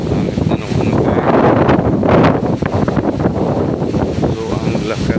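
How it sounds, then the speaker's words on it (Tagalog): Strong gusty wind on a farm buffets the microphone with a loud, continuous roar that swells and eases throughout. "ang lakas na hangin"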